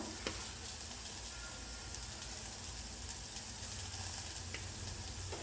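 Potatoes and capsicum fry uncovered in a pan, giving a steady, dense sizzle that holds evenly throughout with only faint ticks, and no voices.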